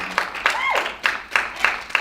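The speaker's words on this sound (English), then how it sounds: "Black women, give yourself a big round of applause" Women at a retreat audience break into applause, rhythmic bursts of clapping with a brief cheer or whoop, close and moderately loud.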